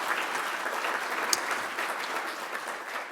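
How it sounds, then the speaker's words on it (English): Audience applause at a school district athletic hall of honor ceremony, a steady dense wash of clapping from a large crowd filling the whole stretch with no talk over it. "Let's give them a round of applause, please."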